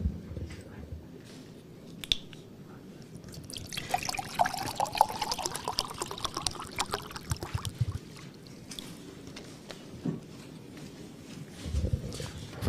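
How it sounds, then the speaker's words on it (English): Water pours into a mug from a dispenser in a quiet room, a steady trickling fill with small splashes and soft clinks throughout. "I need to fill up my mug"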